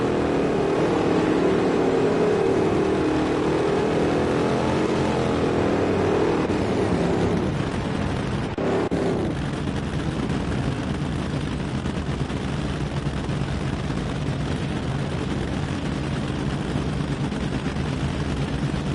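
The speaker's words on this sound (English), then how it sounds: "Did the driver in the right lane hold their brakes well enough in that burnout?" A drag racing car does a burnout in the NHRA Championship Drag Racing video game, a loud sustained engine roar with tyre scream that shifts partway through, then continues as a steady heavy rumble.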